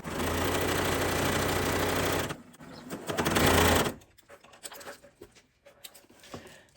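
A sewing machine stitching quilt block pieces, a loud steady motor whir for about two seconds, a short second run, then quiet handling of fabric.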